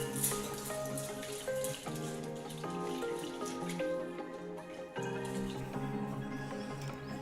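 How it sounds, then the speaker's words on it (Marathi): Toor dal and moong dal being washed in water, with continuous close splashing and trickling like water running into a vessel, swirling and dripping without a break and no voices. "या डाळी आता आपण स्वच्छ धुवून घेऊया."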